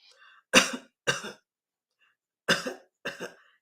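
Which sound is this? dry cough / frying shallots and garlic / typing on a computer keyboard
dry cough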